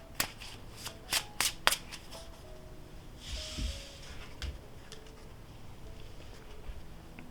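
Tarot cards shuffled by hand, with a burst of crisp riffling snaps in the first two seconds followed by a softer, quieter patter of cards sliding and settling.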